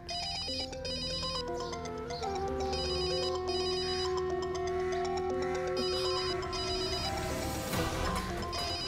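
A mobile phone rings with a melodic electronic ringtone that repeats steadily for several seconds, loud and clear against a faint background, ending in a brief rising swell near the end.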